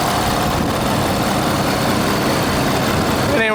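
The diesel V8 of a 2012 Ford F350 Super Duty dually with the Powerstroke engine idles close by, a steady, smooth low rumble that stays at the same level throughout with no voices over it.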